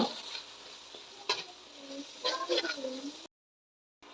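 Spices sizzling in hot oil in a pan and being stirred for a potato and egg curry, a steady frying hiss with a few scraping stirs, ending abruptly in silence.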